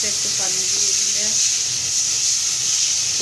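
Boiled water hits a hot pan of fish-head and cauliflower curry, giving a loud, continuous close hiss of steam that holds steady throughout.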